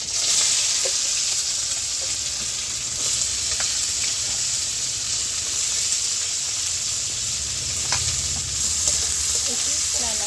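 Chopped onions hit hot oil already tempered with white cumin and whole green chillies, giving a loud, steady, close sizzle that fills the whole stretch, with a few faint clicks of a spatula.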